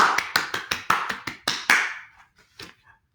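Hands clapping in circles as a round of applause: about nine crisp, evenly spaced claps in a quick steady rhythm, close and fairly loud, then a couple of softer scattered claps trailing off.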